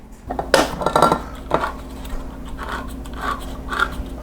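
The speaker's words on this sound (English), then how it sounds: "I'm going to open up these cans and drain them" Metal cans of tuna being opened and drained into a bowl, with clanking and scraping of tin against dishware in a few close bursts early on, then softer intermittent clinks.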